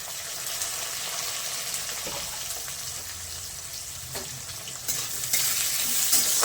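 Onions sizzle and crackle steadily in hot oil, with occasional stirring scrapes and the frying growing a little louder toward the end.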